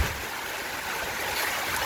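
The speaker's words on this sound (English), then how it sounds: "this is the river that flows past the monument" Floodwater river rushing past a monument beside a road near an old house, a steady broadband roar of flowing water filling the clip without pause, close and continuous.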